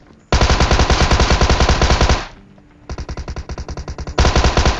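Rapid machine gun bursts in a battle royale shooter game: a long loud burst of evenly spaced shots, a brief pause, then a slightly softer rapid burst swelling louder again at the end, with no talk.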